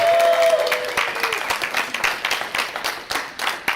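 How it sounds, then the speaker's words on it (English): A convention crowd applauds the guests at a G.I. Joe panel, a dense, steady wash of clapping with a voice briefly heard at the start. "Please everybody give them a wonderful round of applause."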